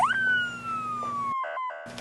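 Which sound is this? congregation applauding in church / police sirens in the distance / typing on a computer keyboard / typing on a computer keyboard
police sirens in the distance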